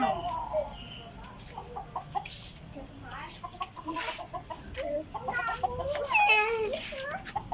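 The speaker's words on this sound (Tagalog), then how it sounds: "Tapang sa manok ni JB" Chickens cluck in a busy, irregular series of short calls, with a few higher squawks and faint voices in the background.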